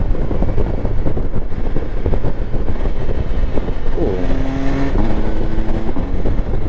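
An MV Agusta Enduro Veloce 950 three-cylinder engine roars steadily at high revs, with a brief rising whine midway as it accelerates; wind noise underneath, no voices.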